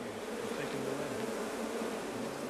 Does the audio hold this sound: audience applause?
no